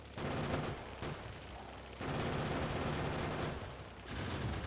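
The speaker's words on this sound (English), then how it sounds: "Let the turrets take care of it." Gun turrets in the Factorio video game fire at attacking enemies in a dense, continuous rattle of gunfire that briefly dips twice before resuming, loud and steady with no voices over it.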